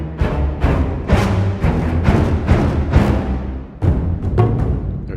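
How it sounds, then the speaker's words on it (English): Low orchestral strings play dense staccatissimo clusters punctuated by heavy drum accents, from the Metropolis Ark 3 library by Orchestral Tools, loud and close with repeated sharp hits and no voices. "low strings clusters, staccatissimo clusters with drum accents."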